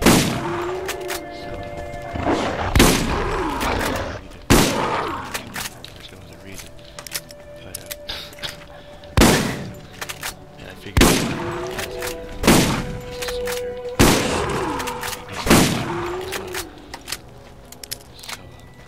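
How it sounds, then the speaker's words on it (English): A shotgun fires in the video game Borderlands: about eight loud, sharp blasts spaced a second or two apart, each one decaying quickly, with a steady game ambience underneath. "I did equip a shotgun because I would like to get my shotgun proficiency."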